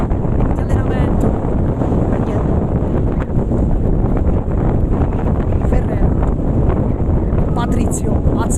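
Strong wind roars and buffets the microphone at an outdoor under-17 football match in Sicily, a constant loud rush with a commentator talking over it.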